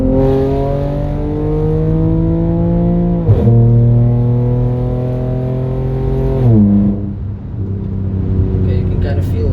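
Audi A5 3.2 V6 (8T3) engine pulling hard under acceleration, its tone rising steadily, with two clear gear shifts marked by sudden pitch drops, heard loud from inside the car with some voices under it.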